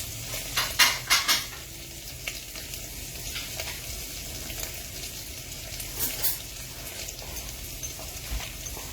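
Dough being mixed in a bowl for an Easter mince pie, a few sharp spoon clinks and scrapes near the start, then a softer steady hiss with occasional light knocks, close and without speech.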